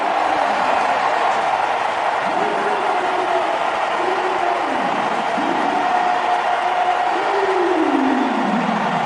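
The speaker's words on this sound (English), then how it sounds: "Listen to the crowd here in Mumbai." A large stadium crowd at an India versus West Indies T20 cricket match in Mumbai roars in a steady, dense wash of noise, with rising swells of cheering throughout.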